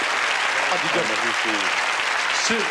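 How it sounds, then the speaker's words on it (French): A crowd applauds with steady, dense clapping while a voice speaks briefly over it. "On applaudit"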